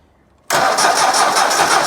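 A Ford tractor diesel engine being spun over after an injector rebuild: after half a second of quiet, the starter kicks in abruptly and cranks with a loud, steady, close mechanical whir.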